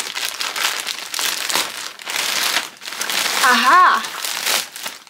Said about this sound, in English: Next up, we have this ginormous parcel. It says it's from Frasers Plus. I don't know what that is. Let's just rip this open.